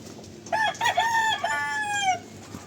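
A rooster crows on a farm, one loud, close cock-a-doodle-doo lasting a couple of seconds, with no talk over it.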